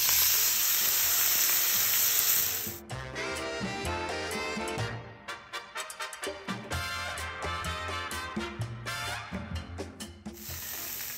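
Beef searing in a very hot frying pan, a loud steady sizzle that gives way to rattling, clattering pan and utensil noises with sizzling underneath, close up and without speech.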